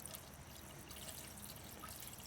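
Water is poured into the radiator of an abandoned 1968 Chevrolet Impala, a quiet, steady trickling pour heard alone and faint throughout.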